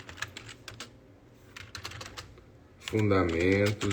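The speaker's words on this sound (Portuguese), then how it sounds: "Estou digitando com a mão só, por isso que é mais lento." Irregular one-handed tapping on a computer keyboard, close and soft, then a person starts talking near the end.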